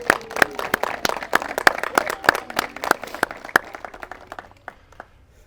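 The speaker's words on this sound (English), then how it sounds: "A round of applause to these two." Wedding guests applaud the two young ring bearers, a fairly close cluster of sharp claps that thins out and fades to quiet by the end.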